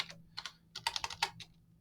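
Quick bursts of keystrokes on a computer keyboard come in a few short clusters as text is typed into a Google Form, close and fairly quiet, with no talking.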